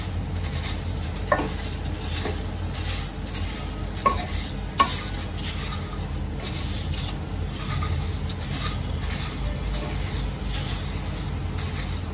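Roasted puffed rice (murmura) being stirred with spices in a bowl or pan: a steady, continuous dry rustling and scraping, close and moderately loud, with a few sharp clicks of the spoon and no talking.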